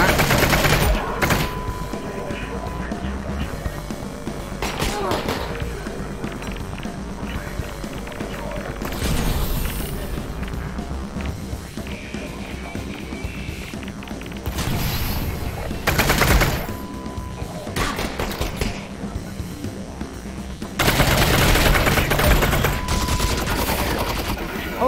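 Heavy gunfire from an enemy's big gun in Half-Life: Alyx comes as loud sustained automatic bursts and booming impacts. Waves of shooting recur throughout, with faint voices mixed in.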